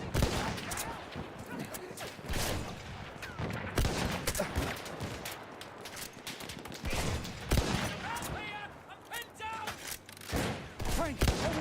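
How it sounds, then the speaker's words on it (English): Dense machine gun fire and battlefield gunshots rattle through a Battlefield 1 match, sustained and loud with scattered bursts throughout, while a voice speaks over the din. "Machine gun."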